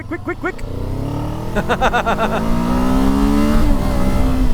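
A Kawasaki Z7 Hybrid motorcycle pulls away from a junction in eco mode, its motor note climbing steadily and loudly through a few seconds, with a voice talking over part of it.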